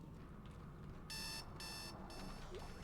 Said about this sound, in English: classic alarm clock jump scare